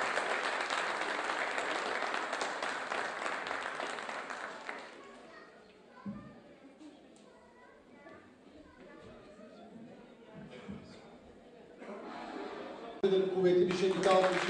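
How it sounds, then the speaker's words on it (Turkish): Applause from a stage-event audience at an orchestra's anniversary gathering: a burst of clapping at the start fades into chatter and talk, then clapping swells again near the end. "Lütfen bir sahnede de alkışlayalım."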